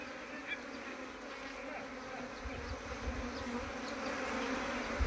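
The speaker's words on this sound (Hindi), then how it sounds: "यहाँ से एक मधुमक्खी को उठने देना है जब तक वहाँ से वो जगह नहीं छोड़ेगी जहाँ बैठी थी" Honey bees swarm around a bee box, their loud, constant buzzing hum filling the air up close, with individual bees droning past and the swarm noise swelling slightly toward the end.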